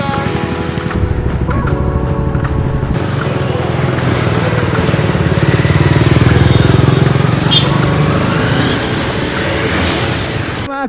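Group of about eight Honda CBR motorcycles setting off on an early morning ride, with engines droning and swelling close by as they pull away, while voices talk over the engine noise.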